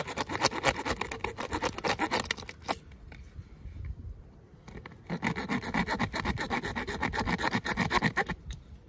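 A Leatherman Surge saw cuts through damp wood in rough rasping strokes. Rapid back-and-forth cutting runs for over two seconds, stops briefly, then resumes in a second steady burst, close and alone.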